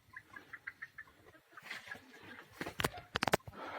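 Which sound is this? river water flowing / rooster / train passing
rooster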